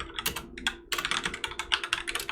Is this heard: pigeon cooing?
no